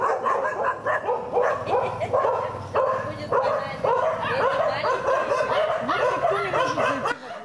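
Stray dogs in a city street bark in a loud, continuous chorus close by, several animals yapping over one another with overlapping rhythms and hardly a pause.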